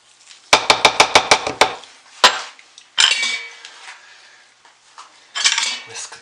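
A wire whisk stirs unscented white soap batter in a container, giving a quick run of about eight sharp, evenly spaced clinks against the sides, then a few isolated knocks and softer swishing scrapes close by.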